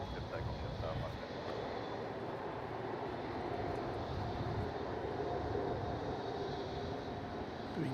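A jet airliner takes off from runway 34 at Melbourne Airport, a steady broad engine roar lasting throughout at moderate distance, with faint radio chatter underneath.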